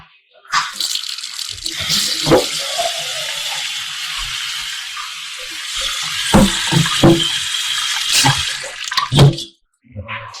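Water pours and splashes into a pot of blended pumpkin soup with a rattling, bubbling rush, interrupted by clinks and brief knocks before it stops.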